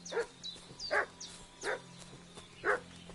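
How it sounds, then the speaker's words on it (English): A dog barks repeatedly in Kingdom Come: Deliverance II, four or five separate barks at an uneven pace, moderately close over a low steady hum from the game. "What's that dog making such a fuss about?"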